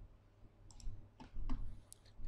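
Several sharp computer mouse clicks, spaced irregularly and fairly close, at a desk while installing software through a Chrome browser; no talking.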